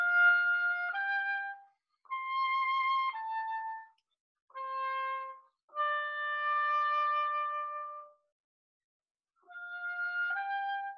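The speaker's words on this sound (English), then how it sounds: "oboe and English horn acting as the shepherds, echoing each other" An oboe and an English horn trade short melodic phrases back and forth, with pauses between calls, like an answering echo.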